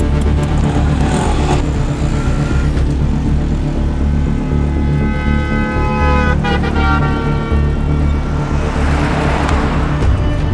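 A car drives off with a loud, steady engine roar that rises slightly as it pulls away, heard close up with no voices.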